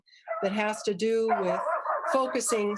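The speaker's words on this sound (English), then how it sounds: "sorry, that's my dog" A pet dog barks and yips repeatedly in a home, several sharp high barks and whimpering cries close to the microphone, overlapping a person speaking.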